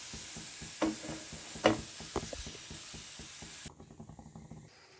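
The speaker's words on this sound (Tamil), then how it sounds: "நல்லா சுருளாக வதக்கி எடுத்துக்கலாம்." Chopped okra dry-sautés in a pan without oil, a quiet hiss with repeated light scraping and tapping strokes from stirring, a couple of sharper clinks early, then fainter scrapes near the end.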